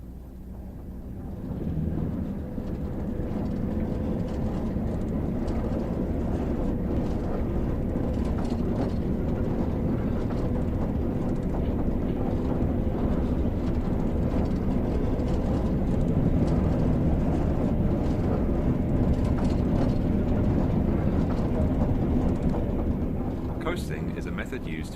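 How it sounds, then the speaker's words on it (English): A train accelerating from a standstill in the Train Sim World video game on the Tees Valley Line, with a steady, loud rumbling drone of engine and rolling wheels that holds throughout, under spoken instructions. "Increase the throttle to start moving."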